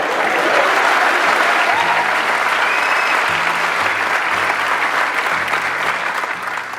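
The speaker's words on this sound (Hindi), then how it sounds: "ताली कौन? मैं बजाऊंगा?" An audience claps and applauds loudly and steadily throughout, a dense sustained roar of many hands, with a low voice faintly audible underneath.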